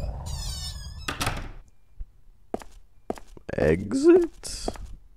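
A door swings open in a video game with a solid thunk, followed by a few soft footstep-like knocks and clicks, with a brief voice heard nearby.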